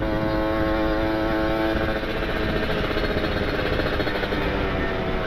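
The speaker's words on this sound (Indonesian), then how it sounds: "Nah, kalau diputar gas dari tengah ke atas itu enak." A Kawasaki Ninja RR two-stroke fitted with an ABRT20 exhaust, held at high revs, a dense, raspy, continuous engine roar close up and loud with no break and no talking.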